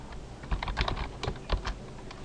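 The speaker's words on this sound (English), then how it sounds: "So what I'll do is I'll type hello string, and then I put a plus." Quick, irregular keystrokes on a computer keyboard, close and fairly soft, a short burst of clicks with small pauses between words.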